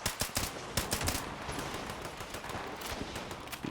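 Rapid gunfire in the video game Fallout 76 sounds as a quick burst of sharp shots up front, then further scattered cracks over a loud, dense background roar, with no voices.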